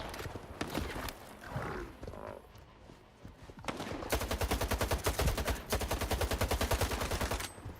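Rapid bursts of automatic gunfire in S.T.A.L.K.E.R. 2, loud and close, rattling on steadily after a stretch of muffled shots and commotion, with no talk over it.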